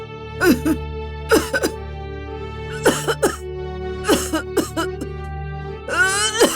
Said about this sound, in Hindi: इतना खांस क्यों रही हो?